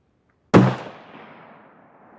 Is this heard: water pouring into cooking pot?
no